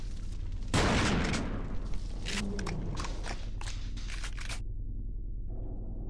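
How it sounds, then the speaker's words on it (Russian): A single loud gunshot in the video game The Thing (2002) cracks out near the start, followed by mechanical reload clicks and rattles, then the sound drops off. "Заметили, я выстрелил там,"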